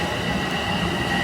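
A New York subway train rumbles past close by, a dense steady roar of wheels and rails with a faint metallic squeal on top, no talking.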